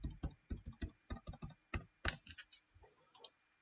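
Keys tapped on a computer keyboard while a password is typed, a quick run of close, crisp clicks in short bursts with brief pauses, ending in a few lighter taps.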